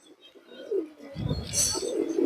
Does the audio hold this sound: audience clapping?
no